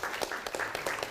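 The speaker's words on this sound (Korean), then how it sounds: "박수 한번 주시죠" Brief burst of audience applause in a lecture hall, scattered light clapping, fairly faint and distant, with no talking.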